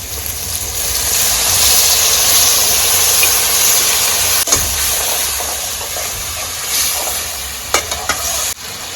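Mutton curry in a pan sizzling loudly after water is poured in, a strong steady hiss that stays close and dense, then eases with a few sharp utensil clicks near the end; nobody speaks.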